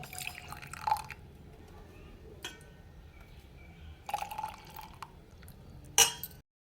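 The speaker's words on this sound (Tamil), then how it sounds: "இப்போ பாருங்கள் இந்த கீ தண்ணியை மட்டும் இப்போ வந்து நான் ஒரு கிளாஸில் வந்து மாற்றிக்கிறேன்" Strained greens soup water dripping into a glass in a home kitchen: faint, sparse drips and a few light clinks over a quiet hiss, ending with a sharper tap.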